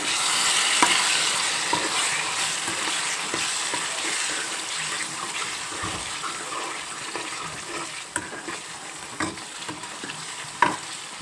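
Bengali dumpa curry stirred in a pan after salt and turmeric are added: continuous scraping and a soft sizzle, with a few sharp clinks of the spoon near the end.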